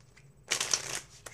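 Playing cards shuffled once in a quick riffle, a brief dense ripple of close flicking followed by a single light tap, quiet with no talking.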